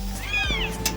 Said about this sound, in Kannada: ಇದು ನಮ್ಮ ಬೆಕ್ಕು